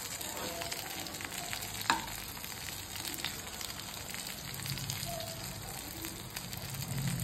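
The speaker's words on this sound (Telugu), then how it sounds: "ఈరోజు మా ఇంట్లో వంకాయ డీప్ ఫ్రై" Long purple brinjal pieces deep-frying in hot oil in a pan, a steady close sizzle and crackle running throughout with a few faint stirring clinks, no one talking.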